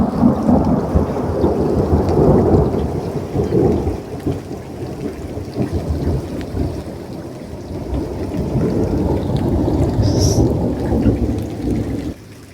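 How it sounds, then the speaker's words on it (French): Thunderstorm with loud, close rumbling thunder rolling continuously over steady heavy rain, near and sustained throughout, with a brief higher chirp near the end. "Ça c'est de l'orage mon cochon."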